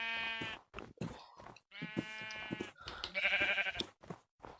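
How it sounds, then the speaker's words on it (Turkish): Sheep in Minecraft bleat in a few short, wavering, harmonic-rich calls that overlap one another, all close and fairly loud, with brief gaps between them and no talk. "Abi ne çok koyun var ya."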